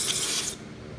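Carburetor cleaner is sprayed into a Honda GCV160 carburetor from a Husqvarna HU700H lawnmower, a single close, loud hissing burst lasting about half a second before cutting off abruptly.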